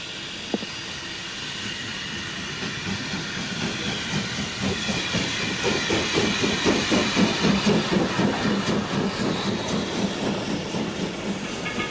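A train pulls into a station with a loud hiss and a rhythmic clickety-clack of wheels that builds and grows stronger as it draws near, with no talking.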